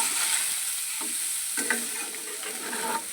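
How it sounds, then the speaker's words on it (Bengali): Soybean chunks frying in oil with salt and turmeric give off a steady, close sizzle, with a few soft stirring scrapes and clicks breaking through. "দু মিনিটের মতন সয়াবিনটাকে ভাজা করে নিয়েছি"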